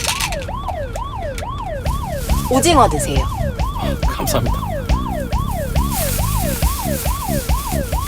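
An ambulance siren wails in a fast, steady rising-and-falling cycle, loud and near throughout, over road noise while people talk.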